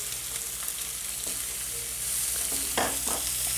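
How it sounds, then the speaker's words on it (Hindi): Chopped onions for a kachori filling fry on a high flame, a constant hiss broken by a few spoon knocks and scrapes against the pan near the end. "और इन्हें हाई फ्लेम पर 2-3 मिनट के लिए भून लेंगे।"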